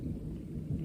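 A brief, distant low rumble of thunder heralds approaching rain, deep and soft.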